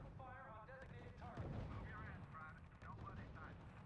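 Infantry gunfire and artillery thunder through a battle in the 2010 strategy game R.U.S.E., a quiet, continuous rumble of shots and booms with a voice talking over it.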